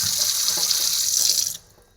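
Tap water running steadily into a pot for cooking rice in a home kitchen, a loud continuous gush that stops abruptly near the end.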